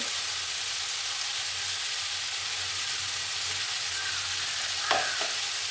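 Potatoes with green chili and ground spices sizzle steadily in a pan, a continuous broadband hiss of frying with one brief louder stir scrape near the end and no talking.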